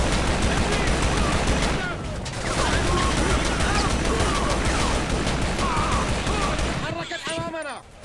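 Dense gunfire from a firefight in the video game Shadow Ops: Red Mercury, with sustained automatic bursts and overlapping shots that stay loud and continuous, ending in a brief sharper flurry.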